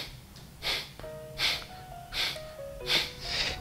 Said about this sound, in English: it's called a breath of fire, when we breathe in and out of our nose